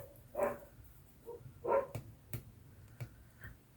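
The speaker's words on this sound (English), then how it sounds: "You've just heard them barking." Dogs bark indoors in a few short, sharp bursts, fairly faint and spaced out over a few seconds, with no talk during the barks.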